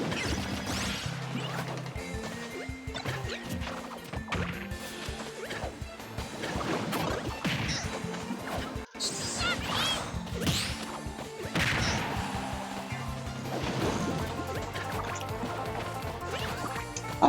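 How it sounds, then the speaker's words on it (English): A noisy plastic water bottle crackles and crunches while someone drinks, with sharp crinkling bursts and gulping water sounds, close and loud throughout. "I should be drinking out of a different bottle, because that one is really noisy"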